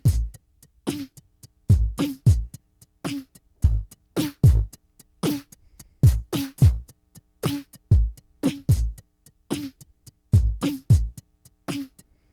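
A drum loop runs through a Boss RC-505 MK2 looper with effects switched on and off, giving steady, punchy kick and snare hits with small cymbal ticks in a regular repeating groove, loud and close with no talking.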